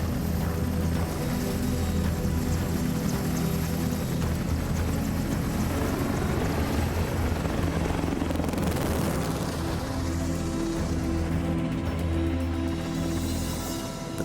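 EH-101 military helicopter in flight, a continuous loud rotor and engine drone with steady low throbbing that swells and whooshes partway through, no talk over it.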